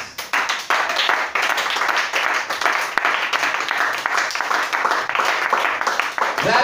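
A church congregation at an Easter service applauds steadily, a dense, loud wash of clapping that runs without a break, with voices mixed in beneath.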